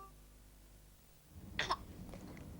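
A child coughs once in a TV advert, a short close burst after a quiet stretch, followed by fainter breathy sounds over a low background hum.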